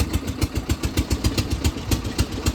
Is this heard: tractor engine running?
yes